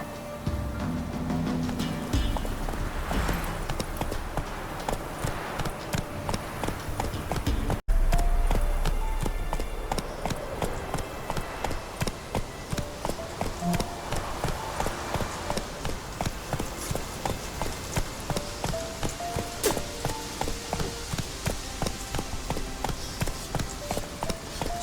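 Roach, a horse in The Witcher 3 video game, gallops at a steady rhythmic clip-clop that continues the whole way, loud and close, with game sounds layered underneath.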